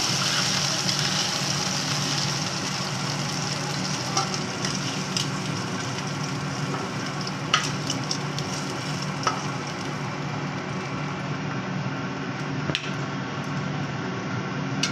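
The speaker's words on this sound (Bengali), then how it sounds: "মাছটা ভাজা হোক, তেল সাথে আমি ঢাকা দিয়ে দিলাম, একটু ভাজা হোক" Shrimp frying in oil in a covered pan, giving a continuous broad sizzle with occasional sharper pops and crackles at a steady level.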